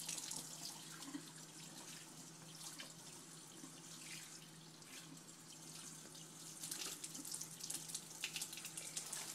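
Tap water runs steadily into a sink during hand washing, a continuous close hiss and splash with slight surges as the hands move under the stream.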